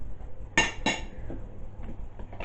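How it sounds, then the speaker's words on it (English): Metal utensil clinking against a bowl while strawberry ice cream mixture with vanilla essence is stirred, two sharp clinks close together followed by softer faint scraping taps. "And now we're going to mix that"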